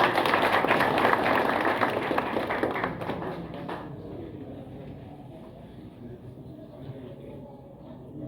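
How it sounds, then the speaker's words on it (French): A political party audience bursts into dense applause, strongest at first, then thinning and fading away over several seconds. "Sous vos applaudissements"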